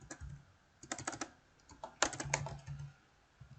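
Quiet, close typing on a computer keyboard, with short irregular bursts of key clicks separated by brief pauses.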